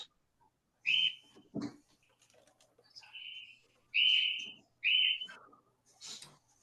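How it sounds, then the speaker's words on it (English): Outdoor birds chirp faintly through a shut door, short clear whistled calls in a loose, irregular series against a quiet room, with brief voice-like sounds between them. "Someone got some bird chirpings in the background."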